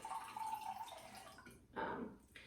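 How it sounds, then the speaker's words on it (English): Cold brew coffee pours from a pitcher into a glass in short liquid bursts with a brief pause between them, close and fairly loud, with no talking. "I went ahead and just poured it directly in my glass"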